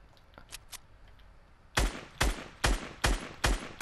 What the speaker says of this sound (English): I'm just shooting the tree it landed in.